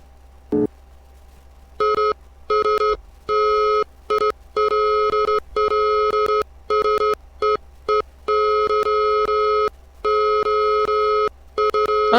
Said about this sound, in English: You can't tell me that wasn't Morse code.